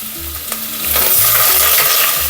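Garlic sizzling in oil in a pot with stirring and scraping sounds, growing louder partway through, close up with a low hum underneath.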